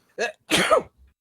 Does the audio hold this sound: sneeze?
yes